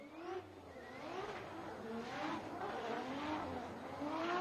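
Formula Drift car at Irwindale sliding into the banked turn during 2017 qualifying, engine wailing and rising in pitch through the drift with tire squeal, heard from a distance, fairly faint.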